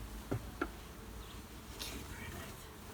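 Honey bees buzz faintly around an open hive during a midsummer inspection, a thin steady drone broken by a couple of sharp knocks from handling the equipment.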